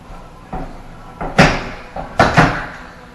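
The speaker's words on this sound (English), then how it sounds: "Okay, I'll start dismantling some of this and pull the door out." A pocket door is pried loose and pulled out of its wall during a renovation, giving a series of close, loud wooden knocks, creaks and scraping thuds at irregular intervals.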